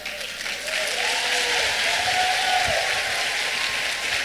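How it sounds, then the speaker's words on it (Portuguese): A church congregation applauds the word of the Lord with full, dense clapping that rises quickly and holds strong and steady, a faint tonal voice drifting beneath the crowd. "vamos aplaudir a palavra do Senhor."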